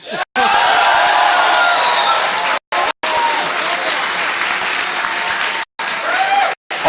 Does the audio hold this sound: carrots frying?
no